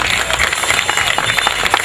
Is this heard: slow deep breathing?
no